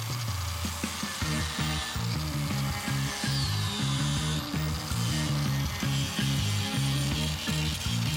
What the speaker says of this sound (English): What I'm gonna do is I'll finish cutting this out